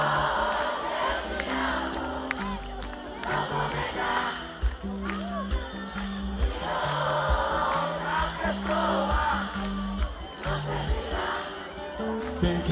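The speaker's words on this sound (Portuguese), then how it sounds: "agora vocês cantando, vamos lá." A large concert crowd in Arcos, Minas Gerais sings along loudly to a song over live band music, with cheering and claps rising throughout.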